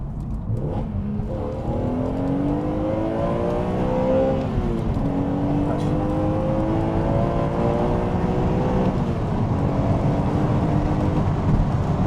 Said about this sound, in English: It's the engine. It sounds like it's in the car with you, and when we've got that intake, it's even more obvious.